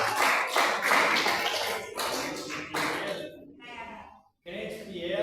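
A church congregation claps together in a dense burst of applause that thins out in the second half, breaking off briefly before resuming, with a voice heard speaking over it.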